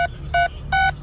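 Three touch-tone telephone dialing beeps, each a steady dual-tone burst, sound clearly over a low background hum, evenly spaced as a number is dialed.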